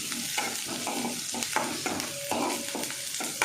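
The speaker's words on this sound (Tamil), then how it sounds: "நல்லா ஃப்ரை ஆகட்டும்." Sliced okra frying and being stirred in a pan for buttermilk kuzhambu, a steady close sizzle broken by repeated scraping stir strokes, with no talk.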